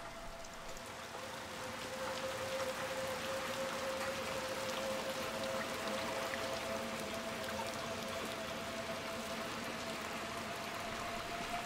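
Steady rain in Little Nightmares II, an even hissing downpour with spattering drops, moderately quiet and continuous, with faint tonal hums running underneath.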